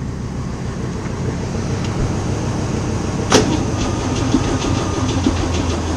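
A Land Rover Series 2A engine cranking on a jump-start from a big truck, with a steady, loud mechanical drone throughout and a single sharp click partway through.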